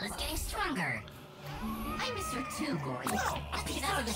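Cat meows and yowls from the video game Gori: Cuddly Carnage sound in short bursts, mixed with game effects beneath someone talking almost throughout.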